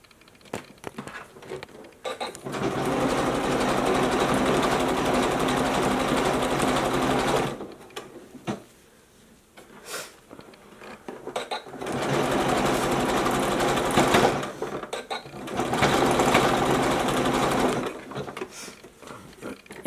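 A sewing machine stitches elastic onto swimsuit fabric in two long runs of steady, fast mechanical whirring, each lasting several seconds, separated by short quiet pauses with faint handling noise. No voices.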